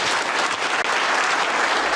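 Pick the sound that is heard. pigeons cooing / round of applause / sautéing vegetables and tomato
round of applause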